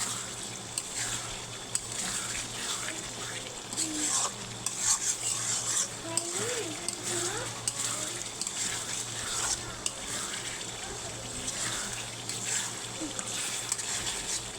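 Ingredients sautéing in a pan for a lentil curry, with a steady soft sizzle and repeated stirring scrapes throughout, a faint voice now and then in the background.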